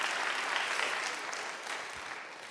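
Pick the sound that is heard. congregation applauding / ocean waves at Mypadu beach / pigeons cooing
congregation applauding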